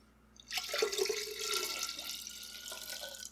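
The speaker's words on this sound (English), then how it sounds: "I'm going to add in some more water." Water pours steadily into a lemon mead mixture, a close, hissing splash that starts abruptly and keeps running with some gurgling, and no one speaks.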